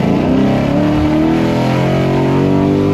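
A Chevrolet Camaro LT1 with an AFE carbon cold air intake accelerates hard, its engine loud, close and steadily rising in pitch for the full few seconds, with no talk.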